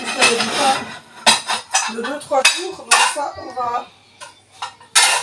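Dishes and cutlery clatter and clink repeatedly as an old second-hand dishwasher is unloaded, loud and close, with someone talking in French through the clanking.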